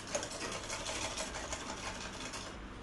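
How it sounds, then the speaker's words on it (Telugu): A domestic sewing machine runs steadily, stitching around the armhole of a girl's cotton frock, a continuous close whirring with an even rhythm that cuts off near the end. "నెక్తో పాటు నేను ఆర్మ్ హోల్ కూడా స్టిచ్ వేస్తున్నాను"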